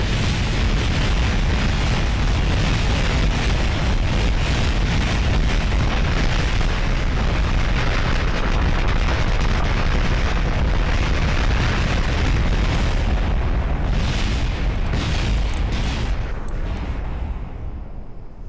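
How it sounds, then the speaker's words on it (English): Decouplers explode in Kerbal Space Program as a long, loud, continuous barrage of crackling booms and pops that goes on without pause and fades slightly at the end. "I'm sure you want to see that again from the opposite angle so you can watch all the explosions behind you."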